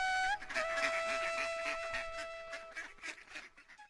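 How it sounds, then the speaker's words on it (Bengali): Cartoon ducks quack and honk in a few short, nasal calls over a sustained musical tone, fairly faint and close, with no talk over them. "মিসকের হাঁসগুলো তো বেশ নাদুস নদুস"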